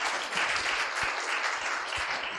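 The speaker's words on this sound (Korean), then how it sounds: "일단 박수 먼저 할까요?" A church congregation at a Korean Sunday service claps in welcome, a steady burst of many hands that stays even and moderately near for a couple of seconds, with no talking over it.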